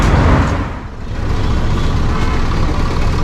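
Heavy, continuous traffic rumble from public buses moving through Dhaka streets, loud and close, with engine drone throughout, a brief dip near one second and no talk.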